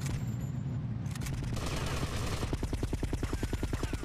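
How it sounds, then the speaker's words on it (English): Rapid gunfire in Grand Theft Auto: Vice City Stories, starting with a dense roar and settling into a fast, even burst of automatic shots, loud and continuous, with no speech. "Start shooting."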